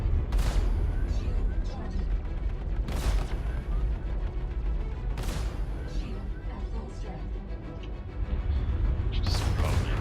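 Heavy ship guns fire in the Star Citizen space game, a few deep booming blasts spaced a couple of seconds apart over a rumbling engine bed, with someone speaking.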